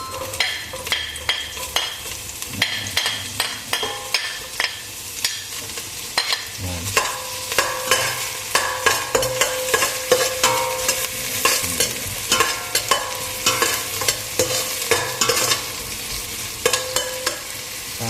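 Onions sautéing in hot oil in a pan for mung bean stew, a steady sizzle under quick, repeated metal spatula scrapes and stirs, close and busy throughout with no one speaking.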